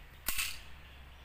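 A single sharp report from a Cal.45 pistol during a firing test, one loud crack with a brief decaying tail, then quiet background.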